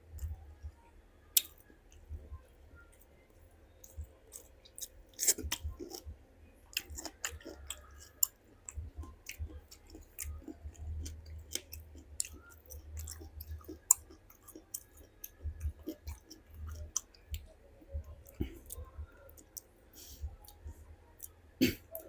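Close, quiet chewing of crunchy meat with sharp crunchy clicks and bites scattered irregularly over a long stretch, no voices.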